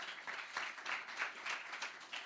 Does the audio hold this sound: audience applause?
yes